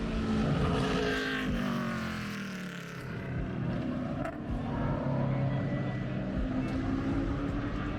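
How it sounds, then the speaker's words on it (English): Vintage race cars running open practice at Road Atlanta, engines droning and sweeping past at a moderate distance, with a steady rise and fall of passing cars and no talk. "Vintage cars are out right now, just for open practice."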